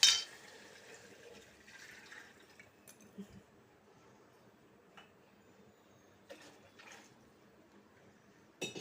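Water is poured from a glass onto plain rice in a pot for veg pulao, two glasses of water to one of rice, a faint splashing trickle with a few soft clinks in a quiet kitchen.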